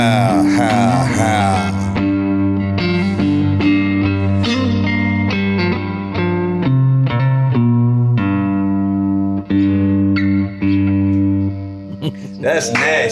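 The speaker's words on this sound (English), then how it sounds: "that's the sound of the cigar box." Three-string cigar box guitar in open G tuning, played with a distorted, buzzy tone: a run of plucked notes and chords with a gritty, sustained ring, close and loud, ending in a brief flurry of strums.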